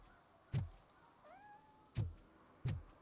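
Cat meowing in the video game Robocop: Rogue City, one short rising meow between three sharp heavy thumps, quiet game ambience underneath, no speech.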